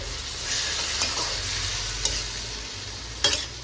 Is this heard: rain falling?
no